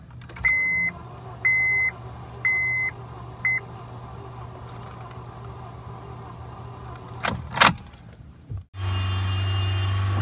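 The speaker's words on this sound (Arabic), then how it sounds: "واشتغلت السيارة بفضل الله." A Honda Accord that had taken in rainwater sits with repeated electronic beeps, a brief crank and whine, then the engine catching and settling into a steady low idle after a short pause.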